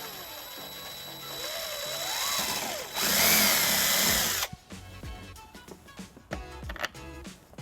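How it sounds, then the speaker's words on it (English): A power drill bores a 3/16-inch hole through a 2018 Kia Sorento bumper, using a trailer wiring bracket as a template: a rising, whining motor run with strain, then a burst of sharp clicks and clatter as the bit works through. "Using the bracket as a template, we're going to drill a 3/16 hole."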